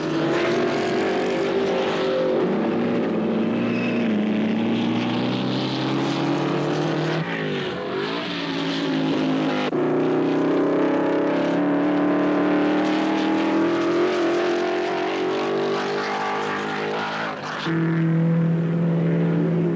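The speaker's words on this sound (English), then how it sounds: "Moss and Fangio scream past the pits" 1955 Formula One racing cars at the British Grand Prix scream past the pits, a sustained loud engine roar rising and shifting in pitch as cars pass in succession, with no talk over it.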